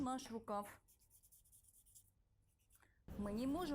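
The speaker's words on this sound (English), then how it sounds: "Place the cut pattern this way and outline it." A pen or pencil scratches briefly as it traces around a cut sewing pattern piece, a soft rubbing stroke between spoken instructions from a voice before and after.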